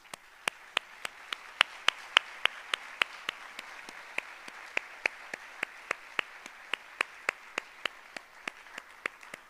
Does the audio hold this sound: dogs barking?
no